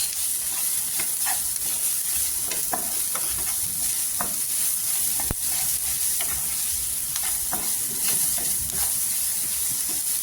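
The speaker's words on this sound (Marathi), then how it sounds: "कोथिंबीर टाकल्यानंतर आहे ना परतून घ्यायचं." Guar bean chili thecha with coriander is sautéed in a pan, giving a continuous close sizzle broken by repeated scraping and stirring strokes, with one sharp clack midway and no voices.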